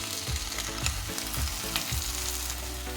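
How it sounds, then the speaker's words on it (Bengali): Sesame paste frying with pointed gourd, rice and tomato in a pan, a close continuous sizzle broken by rhythmic stirring scrapes, with no talking. "তিলটা একটু নেড়ে নিয়েছি"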